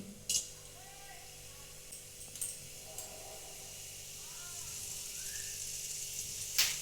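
Black cumin and asafoetida hit hot mustard oil in a kadai on a gas stove, giving a soft, steady sizzle with a few light metallic clinks. It stays quiet and close throughout.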